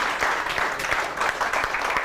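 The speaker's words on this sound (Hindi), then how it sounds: "तालियां होनी चाहिए इनके लिए।" Audience applause at a weekend news talk show, a short burst of steady clapping from a small crowd, fairly close and even.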